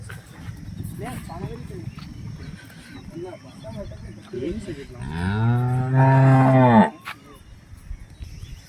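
A heavy black-and-white Holstein Friesian cow, close to giving birth, lets out a loud, drawn-out moo near the end, rising over a steady farmyard background hum.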